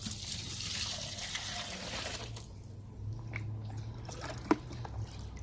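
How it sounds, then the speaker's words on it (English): Faint trickle and drip of water being poured outdoors beside a frozen pond, soft and close, with a brief sharper splash near the end and no talking. "So I'm going to put a little bit of water in this right here."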